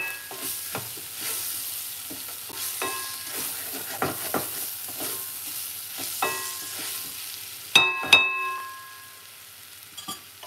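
Eggplant curry paste being stirred in a pot, with scattered scraping and soft sizzling taps, a sharper clatter near the end, close and moderately quiet with no talking.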